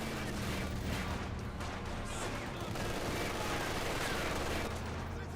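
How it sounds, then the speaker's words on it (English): MG42 machine gun fire in the video game Company of Heroes 2, rapid sustained bursts of gunfire over a steady din of battle, fairly quiet in the mix and continuing throughout. "MG42 hitting the conscripts."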